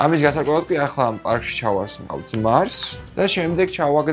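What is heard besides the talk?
None of the usual background noises is heard.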